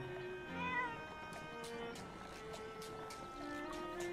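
A cat meows several times, fairly faint and distant, against a steady tonal background hum with occasional soft clicks.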